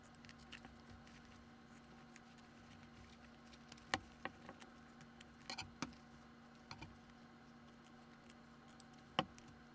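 Scissors snip through fabric for a quilt block, a handful of crisp, separate cuts spaced irregularly over a quiet room tone.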